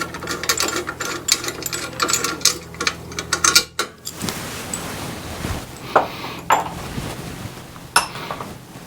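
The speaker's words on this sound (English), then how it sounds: "you most likely have to get a wrench in here just because this bracket doesn't afford you much space" A wrench works a 7/16 bolt on a cramped bracket, giving rapid ratcheting clicks and metallic clatter up close, followed by sparser, sharper clinks of metal tools.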